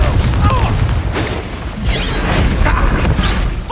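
Confringo explosive spell fired in Hogwarts Legacy inside an abandoned mine, dense rumbling blasts with crackling bursts layered over a constant loud boom, with a few sharp whooshing hits across the clip.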